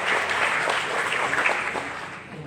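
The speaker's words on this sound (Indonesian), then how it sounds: "Mari kita tepuk tangan dulu." Audience applause at a regional parliament (DPRD) session in South Sulawesi, steady dense clapping filling the room for a couple of seconds before easing off slightly.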